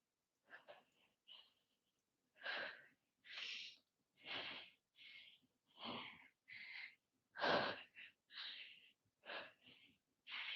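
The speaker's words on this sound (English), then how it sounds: "You can hear me breathing." Close, heavy breathing during an intermediate leg and balance workout, about a dozen distinct breaths in a steady rhythm with quiet gaps between them.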